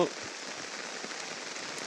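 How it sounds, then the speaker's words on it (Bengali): Steady heavy rain pours down on a village road, a dense, even hiss of drops hitting surfaces with no pauses. "প্রচুর বৃষ্টি। এরকম এরকম বৃষ্টি"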